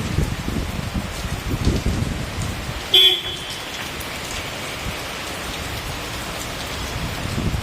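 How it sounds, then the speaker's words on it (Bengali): Heavy rain pours down in a dense, continuous wash over a residential housing society, with a brief sharp tone near the middle that sounds like a distant car horn. "আর বৃষ্টি, এত বৃষ্টি পড়ছে এখানে"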